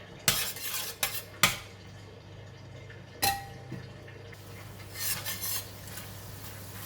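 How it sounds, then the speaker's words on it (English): Metal utensil scraping and clinking in a pan as tofu with sesame seed oil is mixed together for a stir fry, a few sharp knocks then softer rubbing strokes, close and quiet. "Just gonna mix them together."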